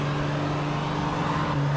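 A steady car engine hum drones in the PJ Masks Hero Academy driving game, a constant toy-like motor tone held at even loudness from start to finish.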